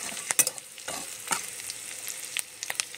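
Onions frying in a pan for a paneer dish, a close, continuous crackling sizzle punctuated by quick scraping stirs and pops.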